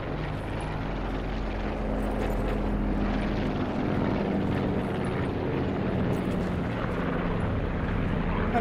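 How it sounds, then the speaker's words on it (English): In the Call of Duty Blackout video game, a propeller plane drones overhead as a steady, even roar that holds for the whole stretch, with faint game sounds mixed in. "I don't know why this plane's so goddamn loud."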